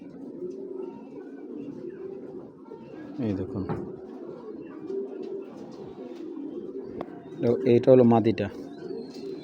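Pigeons, a hen among them, give low rolling coos up close, the loudest burst near the end, while someone speaks intermittently.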